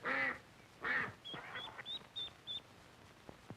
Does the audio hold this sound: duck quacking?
yes